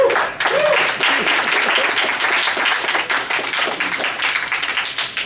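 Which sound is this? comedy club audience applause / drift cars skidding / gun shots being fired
comedy club audience applause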